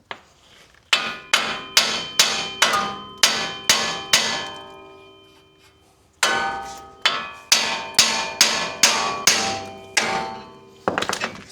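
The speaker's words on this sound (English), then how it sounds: "This one we need a hammer for" A hammer strikes a metal truck suspension part in rapid, steady bursts of ringing blows, a dozen or so, a short pause, then another series of sharp, close metallic clangs.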